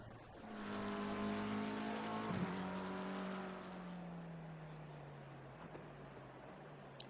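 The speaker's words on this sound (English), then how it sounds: "let's see what these last few cars running through the main straight will give us" GT3 race cars roar down the main straight at Spa in Assetto Corsa Competizione, a loud engine tone climbing then falling in pitch as a car passes close, fading into a steady distant drone while a commentator talks.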